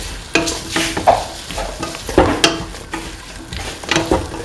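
A spoon stirs spice mixture through a sizzling pumpkin and ivy gourd stew with tomato, giving repeated scraping strokes at a loose rhythm over a soft, constant fry, close and clear with no voices.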